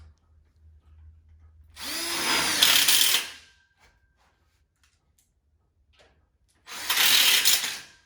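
A power drill drives hex head screws into steel tubes of an outdoor kitchen frame in two loud bursts a few seconds apart, separated by near silence.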